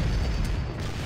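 A grenade blast in a first-person shooter video game, a heavy, sustained low boom that fills the whole moment at close range with no break and no voices.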